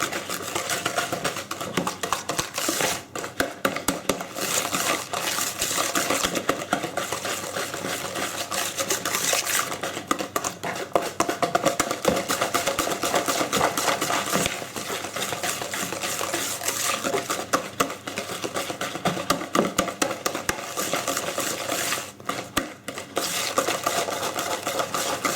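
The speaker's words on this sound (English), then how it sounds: "you're just going to mix it for up to a minute" Fairy cake batter mixed steadily for nearly a minute, a fast continuous whirring and rhythmic scraping against the bowl, close and even, with no voices.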